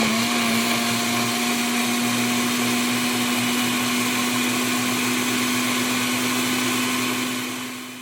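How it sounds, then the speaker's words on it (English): A blender blends a tomatillo and garlic sauce in a kitchen: a loud, steady, high whine with a constant pitch that runs continuously and fades slightly at the end. "everything's going to go into a blender, and you're going to go ahead and blend until smooth"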